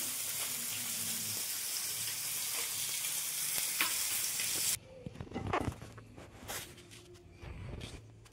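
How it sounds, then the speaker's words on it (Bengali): Hilsa fish sizzle steadily as they fry in a pan, a dense, continuous crackle that stops abruptly partway, followed by quieter clinks and kitchen handling sounds. "প্রায় আমার মাছটা ভাজা হয়ে গেছে, এবার আমি নামিয়ে নেব মাছগুলো"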